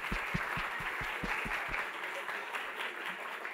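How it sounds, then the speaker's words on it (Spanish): Audience applause at a children's and youth literature event, steady clapping from a seated crowd with low thumping at the start, fairly quiet and continuous throughout. "Un aplauso para ustedes."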